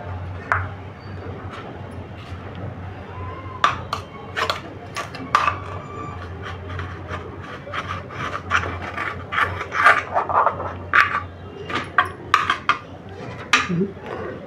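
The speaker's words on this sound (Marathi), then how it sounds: "चमचा असा फिरवायचा आणि अशा इडल्या काढायच्या" A metal spoon scraping and rubbing steamed idlis loose from the wells of a steamer mould in a home kitchen, giving repeated short rasping scrapes with occasional light clinks, close and moderately loud.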